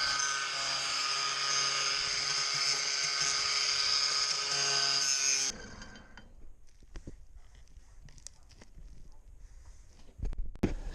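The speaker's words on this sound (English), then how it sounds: "So I'm just drilling out holes so I can get the core out with." A power drill bores holes through a sailboat's fibreglass skin into soaked balsa core, whining loud and steady for about five seconds, then stopping, leaving faint handling clatter and scattered knocks.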